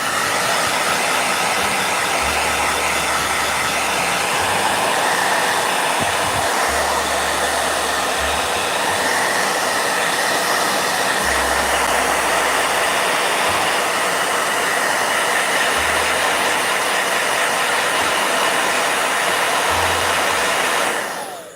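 A handheld blow dryer runs continuously at close range while drying a watercolor and ink painting, a loud steady whooshing hum with faint low thumps, cutting off abruptly at the very end.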